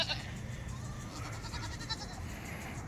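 Goats bleat on a farm in a quiet outdoor setting, a few faint, short calls over low background noise.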